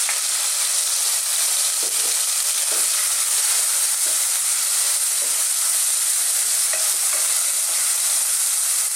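Tomatoes and ginger fry in a pot with a steady bright sizzle and hiss, broken by occasional soft knocks and scrapes of stirring, close and continuous.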